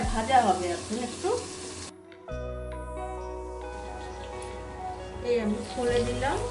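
Okra frying in a pan for an achari bhendi dish, a steady moderate sizzle that runs throughout with a brief dip partway, and a person's voice speaking over it at the start and end.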